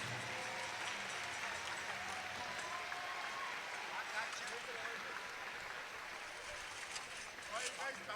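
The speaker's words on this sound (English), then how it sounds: "big round of applause to our high school graduates for 2016" At a graduation powwow, a crowd applauds its high school graduates with faint, distant, steady clapping that blends into a wash of open-air background noise.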